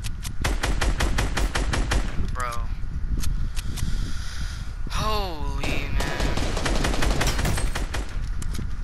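Rapid bursts of Fortnite gunfire crackle through the video game, with dense repeated shots, brief pauses and a few sweeping tonal effects, loud throughout while a player's voice comes in briefly over the shooting.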